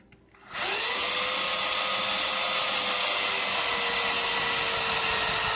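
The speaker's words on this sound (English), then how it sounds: "So the 1/8 inch drill bit was for the starter holes, and now is the 5/16 for the final holes." A power drill with a 5/16 inch bit bores holes in the deck lid of a Dodge Charger R/T while a Hellcat spoiler is fitted, a steady high whine that starts abruptly after a brief quiet moment and runs loud and unbroken.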